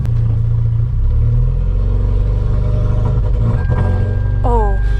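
A 2015 Hyundai Veloster's engine, just back together after a braided fuel line install, runs with a loud, steady low rumble close by, with a brief clatter and a faint whine near the end.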